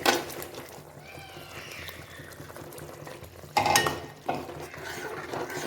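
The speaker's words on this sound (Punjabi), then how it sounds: "ਹੁਣ ਇਸ ਵਿੱਚ ਆਪਾਂ ਜੋ ਗੱਟੇ ਤਿਆਰ ਕੀਤੇ ਸੀ ਉਸ ਨੂੰ ਐਡ ਕਰਾਂਗੇ" Gram-flour gatte dumplings tipped into a simmering gravy and stirred: soft scraping and clinking of a spoon in the pan, with two sharper knocks near the end, no talking.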